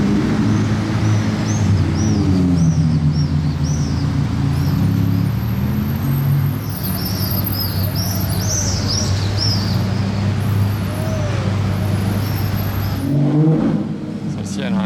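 A Ferrari F40 fitted with a Gintani exhaust idles and blips its throttle in Monaco, with a deep, rumbling exhaust tone over traffic and birdsong. A person talks over it.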